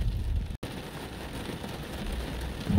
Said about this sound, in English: hang out until it stops raining